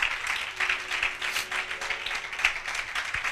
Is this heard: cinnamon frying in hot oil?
no